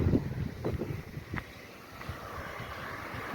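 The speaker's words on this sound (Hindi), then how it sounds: "अच्छी ठंडी हवा चल रही है" Cool wind blows outdoors near Srisailam and a tiger reserve, a steady low rumble of gusts buffeting the microphone, with a few soft thumps and no voices.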